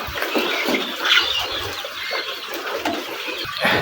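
Large roosters cluck and murmur close by in short, soft bursts over a faint outdoor background.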